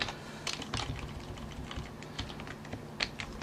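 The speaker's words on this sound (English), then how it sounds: "just type localhost and then the port number" Typing on a computer keyboard, a steady patter of quiet key clicks with a few louder strokes, close and faint, with no talk.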